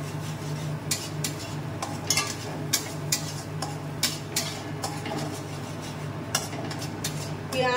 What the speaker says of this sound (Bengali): আমি এবার মশলাটাকে কষিয়ে নেব ভালো করে।